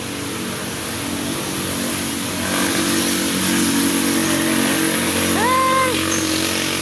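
Motorcycles and other traffic on a highway, heard as a steady engine and road roar that swells louder midway, with a passing vehicle's engine pitch rising and falling near the end.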